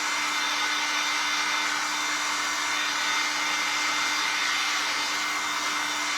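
A handheld heat tool blows hot air steadily over a thrift-store Christmas tray to smooth out wrinkles, a constant close whooshing hum with a faint tonal whine and no breaks or talking.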